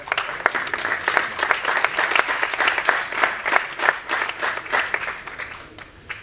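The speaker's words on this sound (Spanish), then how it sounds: "Un fuerte aplaudimiento para él," Steady, dense audience applause fills a medal ceremony for the Sagunt city silver medal. Many hands clap loudly and continuously for about six seconds before thinning slightly at the end.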